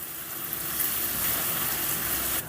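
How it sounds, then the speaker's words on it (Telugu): Sliced onion pieces frying in oil with cumin and curry leaves for capsicum curry make a steady, close sizzle with gentle bubbling, even in level throughout with no talk. "ఇప్పుడు ఈ ఉల్లిపాయ ముక్కల్ని రంగు మారేంత వరకు ఫ్రై చేసుకుందాం."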